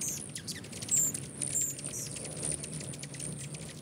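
Hummingbirds feeding in the rain in Southern California give off quick high chirps and tweets, repeated in short bursts over a steady patter of rain, fairly close and moderately loud.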